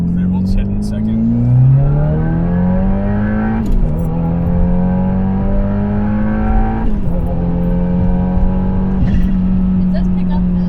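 A 2022 Subaru WRX with the EP6 build, running an E85 ethanol blend, revs hard in repeated pulls. The engine note climbs, drops at each shift and climbs again, loud and close, with people talking over it.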